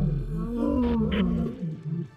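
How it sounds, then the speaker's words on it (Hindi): Lions of the Mapogo coalition roar in a deep, rumbling call lasting about two seconds, loud and close with no talk over it. "वो बहुत शोर मचा रहे थे, दहाड़ रहे थे।"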